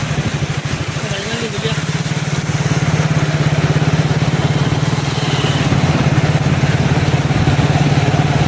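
A motorcycle rides through floodwater from a flooded river in Assam, India, its engine putting steadily and close by, growing louder midway, with some talk in the background.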